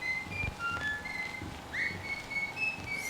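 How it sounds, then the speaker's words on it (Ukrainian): A whistled tune inside the horror game Bendy and the Ink Machine, thin sustained tones over steady background hum, standing alone with no talk. "Свист."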